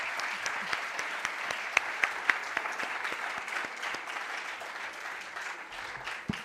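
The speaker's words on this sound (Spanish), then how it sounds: "Fuerte aplauso" An audience applauds at the end of a lecture on the architecture of Cádiz. The clapping is sustained and even, with a few sharper individual claps standing out, and fades slightly toward the end.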